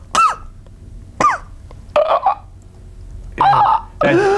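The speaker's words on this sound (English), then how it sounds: "That deep cough from just right in the lung." A deep, chesty cough coming from the lungs, heard as a few separate loud bursts spaced about a second apart, with rougher, throaty coughs toward the end.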